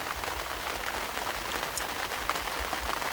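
Rain patters steadily on a fishing bivvy at night, a dense, even hiss of drops drumming close on the fabric with no talk over it.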